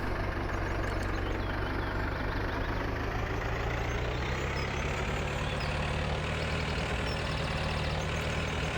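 A small tractor engine idles steadily in Farming Simulator 2013, a continuous, even low rumble and drone with no pauses and no talking.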